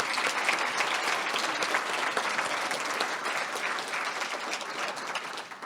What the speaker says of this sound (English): Please, let's give one more round of applause for all of our honorees this evening.